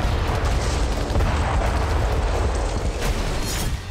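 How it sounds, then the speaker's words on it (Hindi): A US-supplied JDAM bomb detonates in Paraskoviivka near Bakhmut, captured from a drone. It comes through as a dense, sustained rumbling roar with rough bursts and crackle rather than a single sharp bang. "रिपोर्ट के मुताबिक ये जेडैम बम का धमाका है।"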